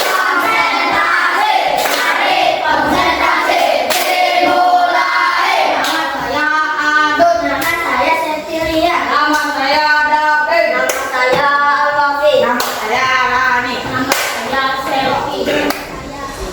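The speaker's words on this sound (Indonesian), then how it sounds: "Tepuk konsentrasi." A class of students performs a rhythmic concentration clapping routine in a classroom lesson, with sharp patterned claps mixed with children's chanting voices throughout.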